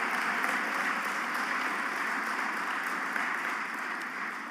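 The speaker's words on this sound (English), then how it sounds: "Can you kindly give them a round of applause," Audience applause for an MFA team at a live event, a steady, dense wash of clapping that holds at a constant level from start to finish with no talk over it.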